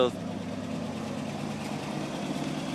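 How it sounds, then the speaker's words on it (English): A 1974 Cadillac Calais idles with a low, steady exhaust burble through a turbo muffler, exhaust leaking from rust spots in the pipe, close and continuous throughout. "she has a bit of a turbo muffler sound to it."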